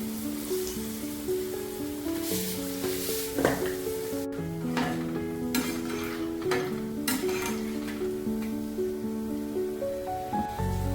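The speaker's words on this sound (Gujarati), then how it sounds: "આપણે ફટાફટ આપણે પકોડા તેલમાં એડ કરી લેશું" Chana dal pakoras fry in hot oil over a low flame, a continuous close sizzle with bubbling and occasional spoon or pan clinks throughout, and no talking.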